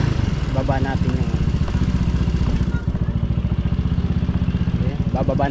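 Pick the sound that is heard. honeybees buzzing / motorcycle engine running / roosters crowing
motorcycle engine running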